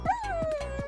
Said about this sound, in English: The dog groaned from comfort.